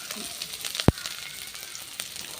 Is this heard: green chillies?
yes